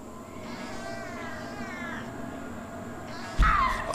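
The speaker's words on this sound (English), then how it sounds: "Wait, was that a cat?" A cat meows repeatedly in the horror game Dreadout, a drawn-out wavering cry fading in and out over a steady ambient hum, then a sudden louder burst of noise near the end.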